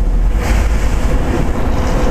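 Vehicle driving along a mountain road, a steady low engine rumble with wind noise, close and continuous throughout.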